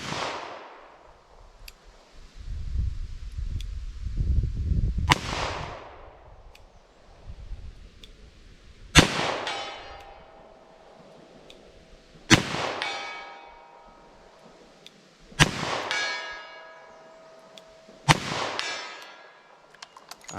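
Five sharp, loud .38 Special revolver shots fired with Magtech Cowboy Action loads, spaced a few seconds apart outdoors, each followed by a ringing metallic clang from a steel target and a fading echo, with a low rumble early on.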